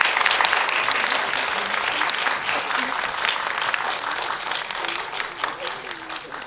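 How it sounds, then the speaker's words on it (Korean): An audience at a film screening and guest talk applauds to welcome the director and actors. The dense clapping is loudest at first and gradually thins, and a voice briefly rises beneath it near the end. "박수"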